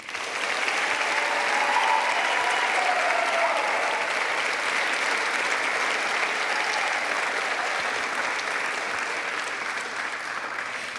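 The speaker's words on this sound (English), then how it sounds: "Can I have one more applause for these seniors?" A choir concert audience applauds the seniors with sustained, dense clapping that stays loud and steady for the whole stretch, with no talk over it.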